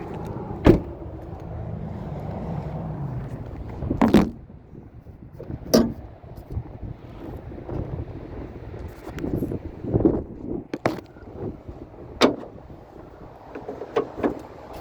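Doors on a 2024 Subaru Outback shut with a handful of sharp, close-up thunks and clunks spaced several seconds apart, each standing out against a quiet, faintly breezy background.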